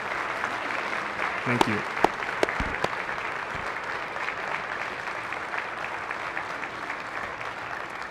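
Steady, dense applause fills a Senate floor session as staff are recognized, continuous and even for about eight seconds, with a few louder nearby claps and a brief spoken thanks early on.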